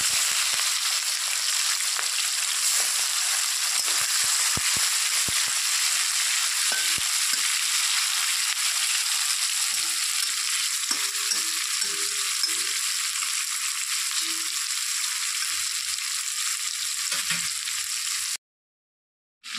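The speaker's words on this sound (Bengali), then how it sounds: "তেলের মধ্যে এখন চিংড়ি মাছগুলো দিয়ে দেব।" Shrimp fry in hot oil with a loud, continuous sizzle that holds steady for nearly twenty seconds before stopping abruptly.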